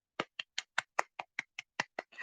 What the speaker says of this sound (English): you just hear the very sarcastic clapping.